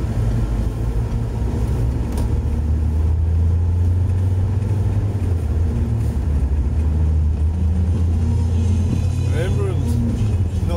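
A Ford Granada being driven on a summer road, its engine humming low and steady inside the cabin with road rumble, while someone talks over it.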